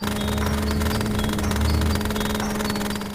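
A cartoon scooter engine running as the rider pulls away on a deserted night road, a loud, steady buzzing motor drone that holds for about three seconds and eases slightly at the end.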